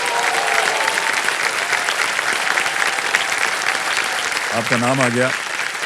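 Studio audience applause on the KBC quiz show, a sustained roar of clapping across the whole stretch, with a host's voice talking briefly over it near the start and a short musical sting toward the end.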